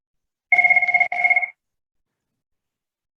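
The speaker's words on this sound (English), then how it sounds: "I apologize. That was my phone." A mobile phone rings during an online meeting: two short bursts of a bright electronic tone, one right after the other, loud and close, followed by silence.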